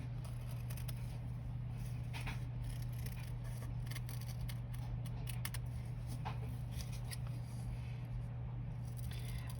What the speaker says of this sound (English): I'm going to cut this pattern out.